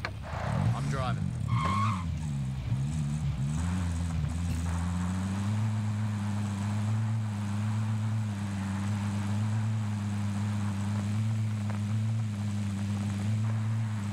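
A vehicle in the battle royale video game Call of Duty Warzone drives steadily along, a low continuous engine drone that settles into an even hum after a short burst of revving and tire noise at the start, with voices briefly overhead.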